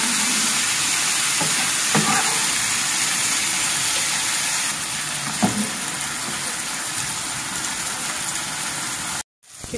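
Kofta pieces for a burger sandwich fry in hot oil with a loud, dense, continuous sizzle up close, marked by occasional utensil taps and a sudden brief dropout just before the end.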